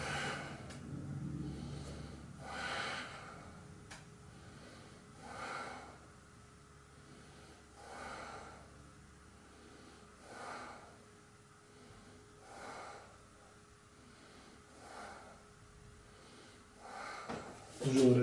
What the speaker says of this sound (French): Et je respire.